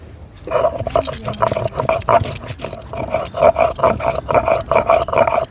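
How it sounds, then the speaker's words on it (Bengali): Ginger and four dried red chillies ground by hand on a flat sil grinding stone in a village kitchen, giving a steady series of close, rhythmic scraping and rubbing strokes throughout. "আর আমরা এই শিলে বাটা মশলা দিয়ে সব কিছু রান্না করি আদাটুকু বেটে নিচ্ছি চারটে শুকনো লঙ্কা বেটে নিচ্ছি"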